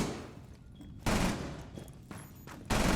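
Gunfire rattles in a tactical shooter video game during a competitive esports semi-final match. Two sharp bursts of rapid shots hit loud against softer background game noise.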